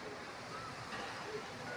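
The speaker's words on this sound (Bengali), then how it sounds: "বাইরে প্রচন্ড হাওয়া দিচ্ছে, খুব হাওয়া দিচ্ছে বাইরে" Strong wind blowing outdoors before rain under a darkening sky, a dense steady roar buffeting the microphone continuously, loud and close, with no other clear sounds.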